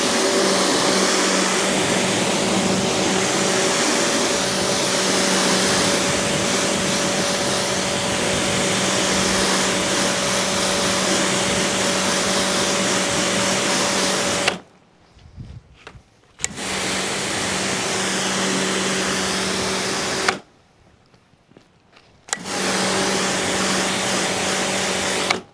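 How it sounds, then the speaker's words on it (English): A pressure washer sprays a car during a maintenance wash, a steady loud hiss with a motor drone that cuts out twice for a couple of seconds before resuming. "Going just as close with the pressure washer"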